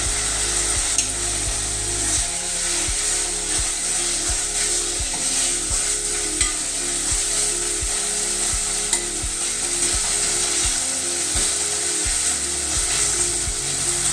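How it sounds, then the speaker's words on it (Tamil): Small onions sautéing in oil, a continuous close sizzle under a regular series of sharp mechanical clicks, like a ratcheting or scraping rhythm, steady throughout with no speech. "வெங்காயம் நல்லா எண்ணெயிலே வதங்குது."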